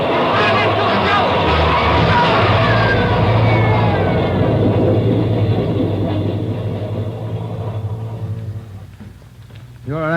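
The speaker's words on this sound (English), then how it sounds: "There's a train coming through." A subway train roars through a tunnel in a radio drama, a loud rumbling and screeching rush that slowly fades away, with voices heard beneath the din near the end.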